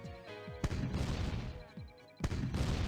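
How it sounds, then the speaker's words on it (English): Tank cannon fire in a Command & Conquer Red Alert mod, with two sharp, loud booming shots and sustained rumbling battle noise between them. "Why do I hear tank fire?"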